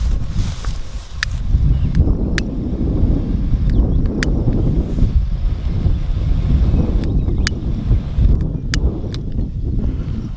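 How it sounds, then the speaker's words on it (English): Wind blows hard into the microphone outdoors, a loud continuous low rumbling buffet with gusting swells, joined by a few sharp distant cracks. "this dang wind"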